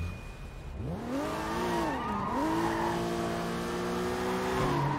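A car in the video game Sleeping Dogs revs and accelerates, its engine note rising and dipping through gear changes, loud and continuous with no talk over it.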